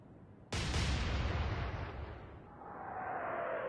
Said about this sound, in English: Get the front guns opening up.